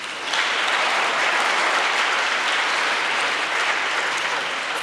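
Sustained audience applause at an award ceremony for the European Youth Charlemagne Prize in Aachen, a steady, dense wash of clapping from a large crowd lasting the whole stretch with no speech over it.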